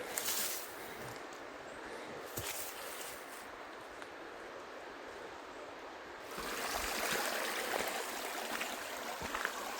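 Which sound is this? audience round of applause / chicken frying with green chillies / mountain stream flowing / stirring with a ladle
mountain stream flowing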